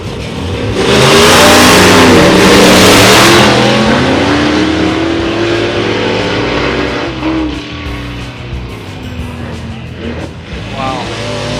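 A primer-finished 1957 Corvette with a straight tube front axle roars down a dragstrip, its engine revving hard and loud up close, then receding as the pitch climbs through the run, with crowd noise behind.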